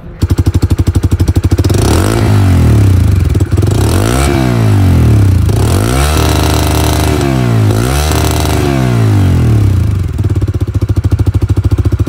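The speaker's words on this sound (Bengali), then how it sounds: "এর এক্সস্টের সাউন্ডটা যদি একটু শোনাই আপনাদেরকে।" A Bajaj Freedom 125 CNG motorcycle idles with a loud, close exhaust thump, then revs repeatedly in rising and falling surges before settling back to a chugging idle.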